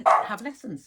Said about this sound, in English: Oh, there's the dogs.